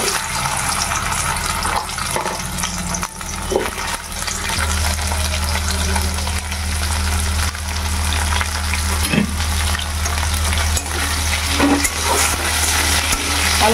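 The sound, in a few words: potatoes and taro frying in a wok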